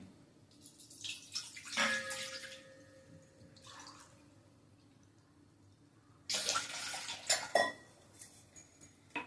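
Two glasses of water poured into a vessel for kokum drinks, a splashing pour early on and another burst of pouring with clinks of utensils later, close and without talk.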